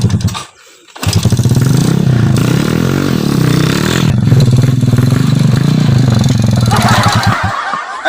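A motorcycle engine used as an ojek bike catches after a brief quiet gap, then runs close and loud with a rough, steady rumble and a slight rev before easing off.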